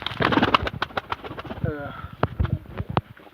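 Pigeons coo in a loft, soft repeated coos close by, with someone talking over them.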